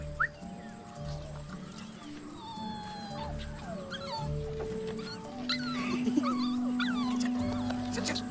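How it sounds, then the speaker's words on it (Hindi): A puppy whimpers in a scene from a Hindi comedy film. Thin, high yelps and whines come and go over a steady low background bed, with some faint voices. "पिल्ला निकालो बे, जल्दी निकालो।"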